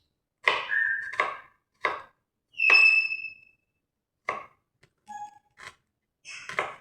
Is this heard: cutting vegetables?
yes